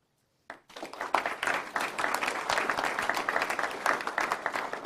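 Sudden burst of audience applause at an Army Emergency Relief 75th anniversary event, starting abruptly and continuing steadily, dense clapping from many hands filling the room.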